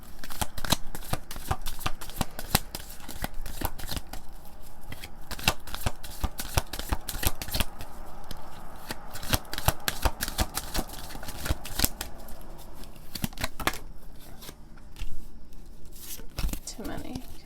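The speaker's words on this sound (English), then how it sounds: "Let me just shuffle right quick and get all the cards." A deck of cards being shuffled close up, a long run of rapid crisp riffling and flicking bursts, quiet but steady, with brief pauses toward the end.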